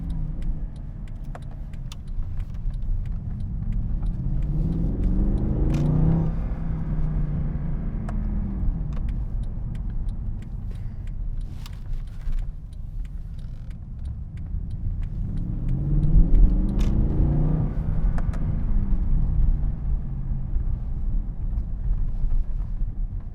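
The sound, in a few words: 2012 Mercedes-Benz C63 AMG engine running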